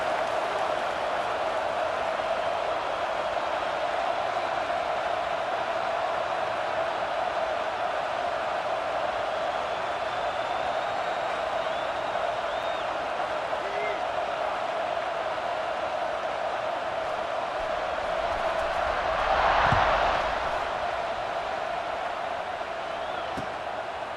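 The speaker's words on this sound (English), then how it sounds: "this crowd is buzzing after that last score" A packed football stadium crowd at an Ohio State versus Michigan game keeps up a steady, dense roar throughout, with a brief swell of cheering near the end; a broadcast voice talks over it.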